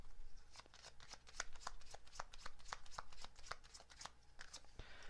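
Tarot message cards are riffled and shuffled in a quick, continuous run of crisp close flutters and snaps lasting several seconds, with no talking.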